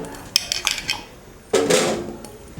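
Amla gooseberries dropped into a metal pot of water in a kitchen, a few sharp clinks and knocks followed by a louder splash and rattle, close up with no talking.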